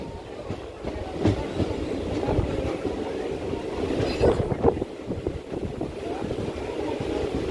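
A DEMU unreserved express train arriving at Lalgudi station on the Tiruchchirappalli to Cuddalore Port run gives a steady rumbling roll with faint clickety-clack from the rails and wagons, continuous and fairly close throughout.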